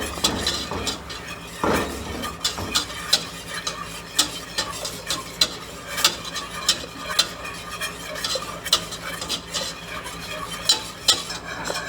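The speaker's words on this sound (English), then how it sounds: "I'm going to add a little bit more milk and just keep stirring it." Chocolate pie filling with added milk being stirred in a pot, a spoon scraping and tapping the pan in a steady repeating rhythm with faint clinks and a low simmering bubble underneath.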